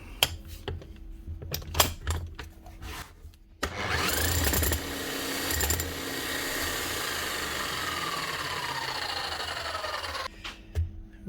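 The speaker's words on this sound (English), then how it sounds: "She's running, but she's making a very bad slapping sound back here." A Bosch 11E hammer drill being run on a repair bench with a bad slapping noise from its rear, a steady loud motor roar with rattling that winds down, framed by clicks and handling knocks.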